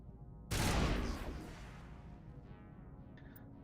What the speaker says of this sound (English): Still a touch loud on the gunfire